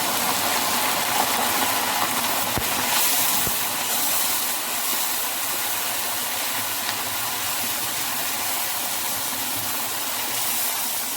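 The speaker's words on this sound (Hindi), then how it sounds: "अब प्याज ब्राउन हो चुके हैं, अब हम कीमा डालेंगे।" Minced keema hitting browned onions in a hot pan gives a loud, steady broadband sizzle and hiss that holds evenly throughout, with a couple of sharp clinks early on.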